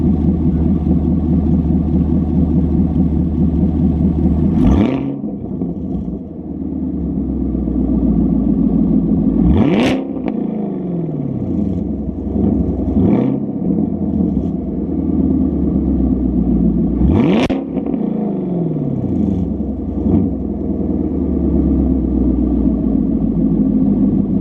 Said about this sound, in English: set this up, rev it a few times